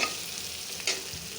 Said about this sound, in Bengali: শুটকিটা দিয়ে দিব।